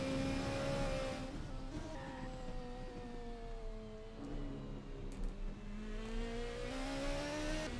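An onboard race car engine from a racing video game at Daytona drones steadily, its pitch climbing and falling through gear changes, loud and close, with faint tire noise and no talk over it.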